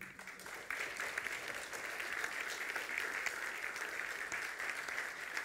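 An audience at a magician's stage show applauds a volunteer called up front. Clapping swells after a quiet start and continues as a dense, even patter of many hands, fairly distant.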